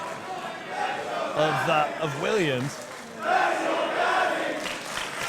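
Wrestling crowd at a WCPW match between Travis Banks and Doug Williams shouts and chants in rising waves, a loud sustained roar with rhythmic chant bursts under a commentator's talking.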